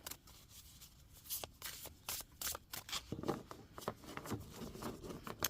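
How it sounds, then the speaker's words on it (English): A deck of Mary Magdalene oracle cards gets an overhand shuffle, giving a string of crisp, close slapping and riffling bursts in an uneven rhythm, with light handling noise between them. "Overhand shuffle is nice. There's like a good flex in the cards."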